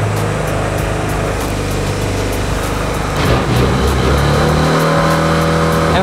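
Scooter engine runs steadily close by, a loud buzzing idle with a slight rise in revs partway through, heard alone without talk.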